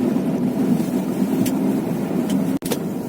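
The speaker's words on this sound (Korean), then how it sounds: "와 여기 바람 엄청 부네?" Strong winter wind buffets the microphone on the Jeju coast at a rockfish fishing spot, a steady loud rumbling roar with a brief dropout near the end and no talking.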